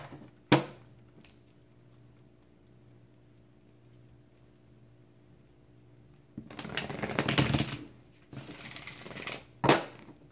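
Tarot cards are shuffled in a couple of quick riffling bursts near the end, each a close crisp flutter, after a short tap and a long quiet stretch.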